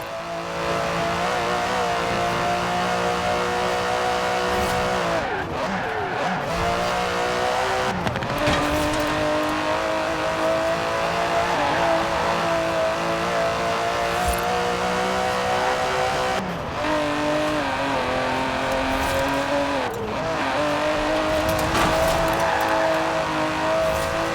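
Aston Martin DB11 grand tourer driven in the Forza Horizon 4 racing game, its engine droning steadily and loud throughout, with rising revs, gear changes and brief tire squeals around corners, no talk.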